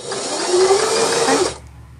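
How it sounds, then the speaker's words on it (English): An Elna 340 sewing machine stitching a straight seam: a loud, steady mechanical whir for about a second and a half, close up, then stopping abruptly into near silence. "if we just sew that now, are, you've got a nice straight stitch"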